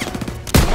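Gunfire in the World War II shooter Call of Duty WW2: a rapid patter of muffled shots, then a loud, heavy blast near the end, with no speech.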